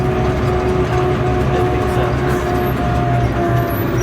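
A 2016 Hidromek 102S backhoe loader drives with ride control switched on, its engine a steady, loud, continuous rumble and drone with no breaks.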